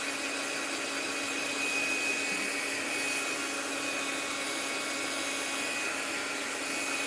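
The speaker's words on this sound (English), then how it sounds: "Let's dry that with the heat gun and see." Heat gun blowing hot air to dry ink on mixed-media paper: a loud, continuous, even fan whine with a steady hum and no breaks.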